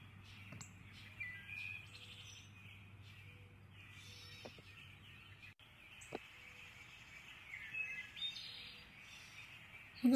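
Birds chirp and tweet intermittently across the ambience of a hunting simulator game, with scattered short calls at moderate distance over a low steady background hum.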